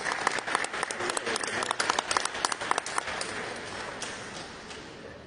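Applause from an audience at a ceremony honouring a regional award winner in traditional art and crafts, a dense burst of many clapping hands that swells, then thins and fades toward the end.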